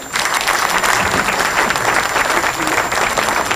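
Loud, dense audience applause fills a book signing event, continuous clapping from many hands at even strength from start to finish.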